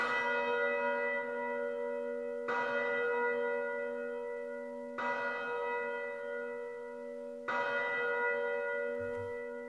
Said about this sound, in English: Four deep bell tolls resonate from overhead, signaling to you that time is ticking closer.